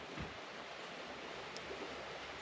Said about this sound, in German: Da hinten ist wieder ein Bach. Könnt ihr bestimmt hören.